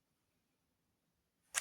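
A single crisp camera shutter snap ends a near-silent stretch, close and clear, as a selfie is taken at a Magic: The Gathering prerelease event.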